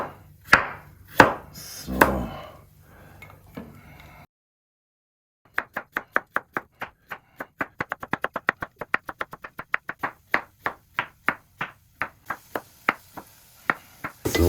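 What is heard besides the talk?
knife slicing radishes into fine slices on a board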